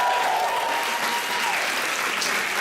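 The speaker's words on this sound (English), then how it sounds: "Give Liz a round of applause" An audience claps, a dense burst of applause throughout, loud and close.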